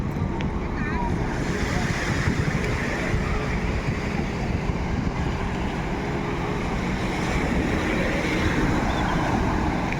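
Ocean waves wash onto Patong Beach in Phuket as a continuous, roaring rush mixed with heavy wind buffeting the microphone, with people talking faintly in the background.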